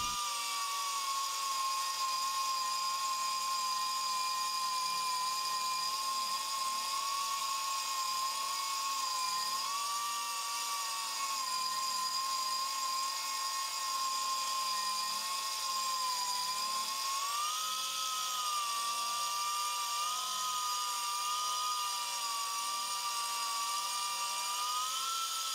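Power brush finishing metal with Scotch-Brite flat brushes, worked along the grain to feather a repair area; a steady, loud, high-pitched motor whine with abrasive hiss runs continuously and close, with no talk.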